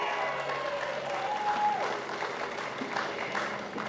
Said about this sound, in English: Let's give a cheer for Cafe Locked Out, Michael.